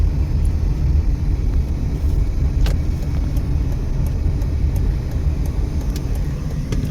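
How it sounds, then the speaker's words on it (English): Road traffic rolls through an intersection by Burns Avenue and H Street near Washington and Bonanza in Las Vegas, a steady loud low rumble of engines and tires with occasional faint clicks. "Wait for the traffic to cross."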